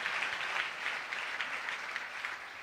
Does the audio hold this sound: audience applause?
yes